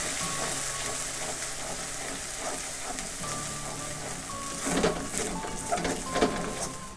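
Onion, garlic and ginger sauté in a pan with turmeric, cumin and chili powders for dhaba-style liver and stomach kosha. A steady, moderate sizzle carries on under background music, with a few louder stirring scrapes near the end.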